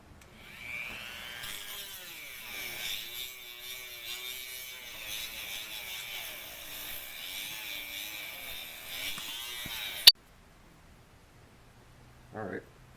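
A high-pitched rotary tool whines steadily for about ten seconds while cutting into a metal part on a 1992 Mazda Miata MX-5, then stops abruptly, followed by a brief clatter.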